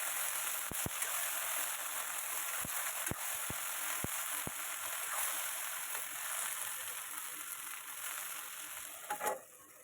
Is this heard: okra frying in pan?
yes